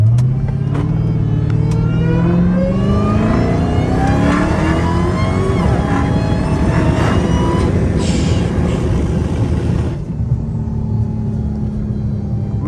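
Dodge Challenger Hellcat Redeye on a mountain canyon drive, its supercharged engine rising loudly in pitch as it accelerates hard, heard close and continuously, then settling after a gear change near the end.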